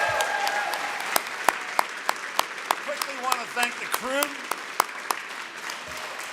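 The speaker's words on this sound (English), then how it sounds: "give them one more round of applause" Concert audience at a folk music awards showcase applauds the performers, sustained clapping with sharp individual claps and cheers, while a host speaks over it into a microphone.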